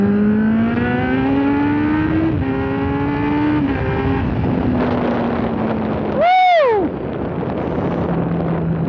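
A Kawasaki Z800 inline-four with an SC Project exhaust accelerates hard, its engine note climbing through several rising pulls with gear changes and wind rush, then a sharp rev flare and a lower settling drone.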